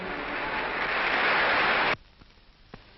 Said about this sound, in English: Arriving to address a joint session of the Congress, President Truman receives thunderous applause